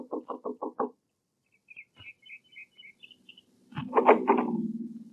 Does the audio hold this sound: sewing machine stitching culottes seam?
no